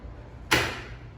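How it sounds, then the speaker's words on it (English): A locked door in an apartment building opens with one sharp click and clunk, followed by a short fading rustle against a quiet indoor background. "Second locked door here."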